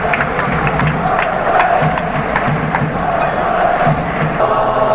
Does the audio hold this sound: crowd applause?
yes